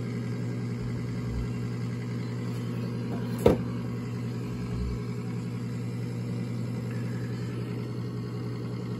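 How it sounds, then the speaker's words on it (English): A Coleman gas furnace's inducer motor runs with a steady low hum and whir, close by and constant, with a single sharp click partway through. "Inducer motor is running."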